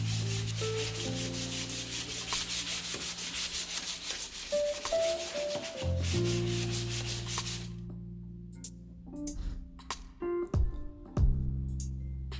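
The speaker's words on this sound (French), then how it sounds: "donc il faut poncer, mais très légèrement" Light sanding of painted wood on a modern handmade TV stand produces steady rubbing and scraping strokes up close. A loud tonal background hum runs underneath, and sharp knocks and clicks follow later.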